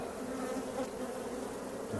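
Honey bees buzzing around an open hive during a split check, a dense continuous close-up drone of many wings with no pauses.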